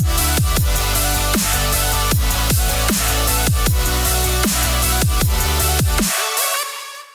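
Electronic music from an Ableton project template plays loud and steady, with a regular pounding kick beat under sustained synth tones, then cutting off abruptly near the end.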